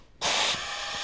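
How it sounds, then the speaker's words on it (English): Compressed air at about 20 PSI bursts on through a suction cleaning tool on a Fuso FG engine, a sudden loud broadband hiss that eases slightly and keeps blowing steadily. "I'm going to start by connecting the air, which will make a little bit more noise."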